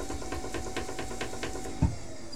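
Ceramic bat on a pottery wheel, not sitting level on its pin, clicks in a steady, fairly fast rhythm under the low hum of the spinning wheel, with one louder knock near the end.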